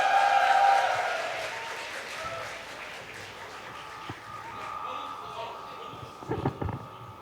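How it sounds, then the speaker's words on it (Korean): A church youth retreat audience claps together, a burst of applause that starts strong and fades into scattered clapping, with voices and crowd murmur around it. "하나님께 영광의 박수!"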